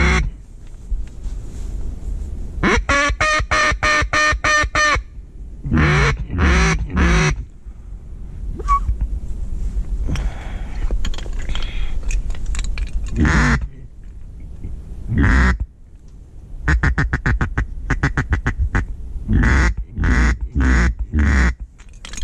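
Bursts of rapid quacking from several ducks during a duck hunt come in loud clusters, with short pauses between calls, close by.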